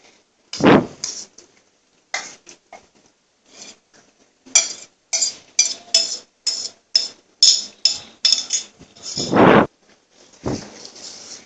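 A spoon scrapes around a pot of white korma as a spice mix, milk, yogurt and ground onion are stirred in: a dozen or so short, rhythmic scraping strokes, close and fairly loud, separated by brief pauses, with a couple of heavier knocks.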